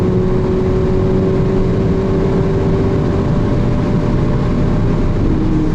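A Volkswagen Jetta GLI with a 300 hp engine accelerates at high speed, heard from inside the cabin as a loud, steady engine drone with a sustained tone and heavy road and wind roar, with no voices.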